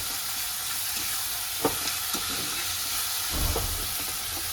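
Tomato and onion frying in hot oil give a steady, loud sizzle and hiss, broken by a few scraping stirs of the pan, with no voices over it.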